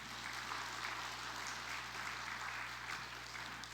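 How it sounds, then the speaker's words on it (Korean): Dense, steady applause from a church congregation at a Sunday service, filling the space evenly throughout without pause, with no voices rising above it. "우리 격려의 박수, 응원의 박수"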